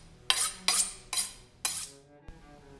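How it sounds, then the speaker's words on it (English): Four quick metallic swipes of a kitchen knife being sharpened, evenly spaced and close, followed by a single faint tap. "First, let's sharpen our utensils."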